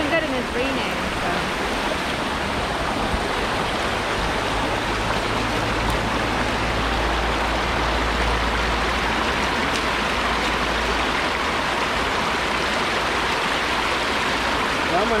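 Steady rain by a river outdoors in Jamaica, a dense, even wash of hiss and patter mixed with flowing water, constant and close throughout with a low rumble underneath.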